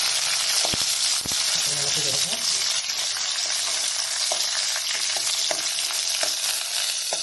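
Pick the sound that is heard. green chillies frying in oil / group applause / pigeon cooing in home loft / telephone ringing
green chillies frying in oil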